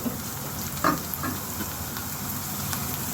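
Fenugreek seeds sizzle in hot oil alongside cumin, giving a soft, continuous frying hiss near the pan, with a few faint clicks and a single louder stir-scrape.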